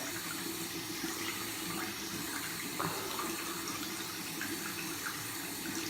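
Tap water runs steadily at a sink for a morning face wash, a continuous close splashing rush.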